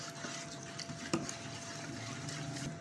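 A steady frying hiss with a brief knock of a utensil midway, as mashed mustard greens are stirred into hot tempering in a pan; no voices.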